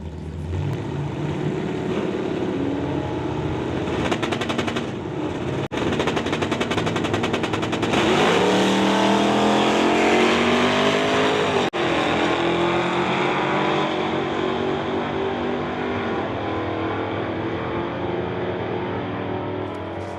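A station wagon and a Ford Mustang drag race side by side down the strip, engines roaring loud and steady with rising gear-change sweeps over about twenty seconds, a few sharp cracks punctuating the continuous din.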